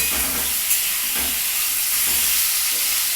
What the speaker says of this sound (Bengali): এবার আলুটাও ভাজা হয়ে যাচ্ছে